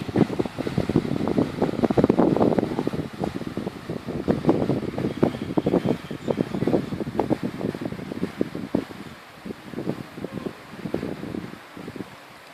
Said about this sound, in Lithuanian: Vėjas daug silpnesnis nei buvo vakar